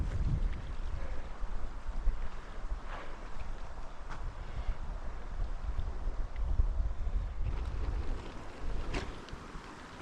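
Wind gusts buffet the microphone at a backcountry canoe campsite by a lake, a rough, continuous roar with rising and falling surges and no voices.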